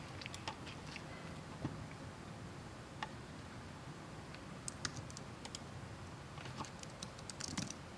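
Light, irregular keystroke clicks on a computer keyboard, fairly quiet and close, with brief clusters of faster typing toward the end against a low steady background hum.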